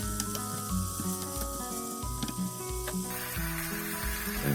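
Chicken and ginger stir-fried in a hot pan give a steady, close sizzle with light stirring rustles throughout, beneath a background of tonal music.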